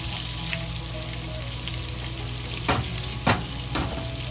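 Sausage frying in a pan until crispy, a dense, steady sizzle throughout with a few sharp scraping stirs toward the end, close and fairly loud, no talking.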